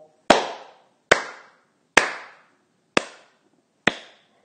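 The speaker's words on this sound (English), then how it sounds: "Will you join me in a slow clap?" Five loud, sharp hand claps ring out one by one in a slow, steady rhythm, each followed by a short reverberant tail and silence between.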